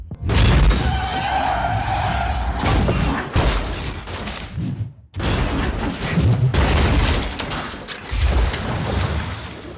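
A car skids and crashes in a dramatic film wreck sequence: dense, loud bursts of screeching and impact noise, broken by a few short pauses, with no talking.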